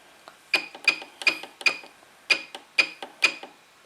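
Sewing machine stitching a straight seam close to a hidden zipper on a pillow cover, heard as seven sharp mechanical needle clatters in a steady rhythm, close and clear with no talking.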